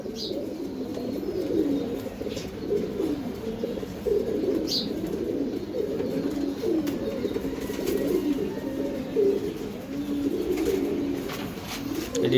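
A pair of Sapchila tournament racing pigeons, a male and a female, coo continuously at a pigeon farm, with soft repeated throaty calls close by and a faint chirp now and then.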